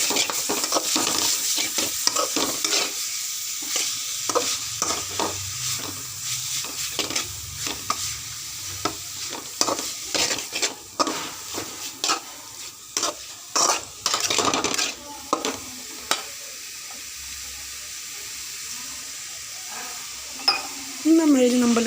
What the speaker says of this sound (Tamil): இப்போ கொஞ்சம் நீங்கள் லோ ஃப்ளேமில் வச்சு வதக்குங்க ரத்தத்தை